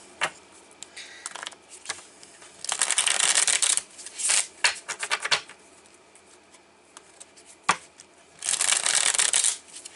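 Tarot cards are shuffled and pulled in several close riffling bursts, with soft taps and flicks between them as cards are handled and laid down.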